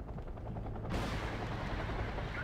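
Heavy weapons fire from a WZ-550 armored vehicle in the real-time strategy game Wargame: Red Dragon, a dense continuous roar of battle that swells louder about a second in and holds steady to the end.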